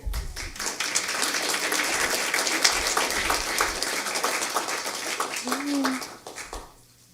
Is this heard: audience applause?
yes